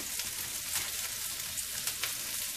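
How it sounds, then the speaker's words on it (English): Carrots, mushrooms and onions stir-fry over a very high flame, a dense, even hiss of sizzling oil close by with faint stirring scrapes, no voices. "So we'll add all these vegetables in there, carrots, mushroom, onions, everything together."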